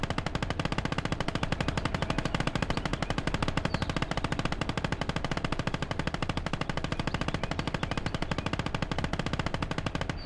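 Sustained automatic machine gun fire in the WWII strategy game Call to Arms: Gates of Hell: a dense, unbroken stream of rapid, evenly spaced shots lasting the whole stretch, with no speech.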